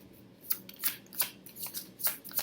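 Tarot cards being shuffled in quick, crisp riffling bursts, about six or seven short flurries close by in a quiet room.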